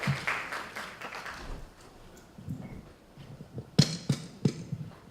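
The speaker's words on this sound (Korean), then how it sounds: "큰 박수로 맞이해 주세요" An audience at a Korean commemorative event applauds as a UNESCO Korea presenter is welcomed to the stage, sparse scattered clapping in a hall, quiet at first, with a few sharper claps toward the end.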